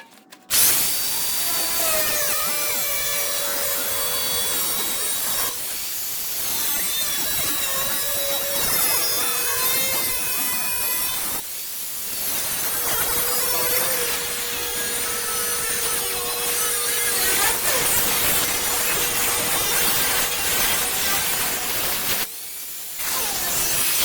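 A power cutting tool grinds loudly and continuously through a steel diesel tank in a shop, with brief pauses between long, harsh cutting passes.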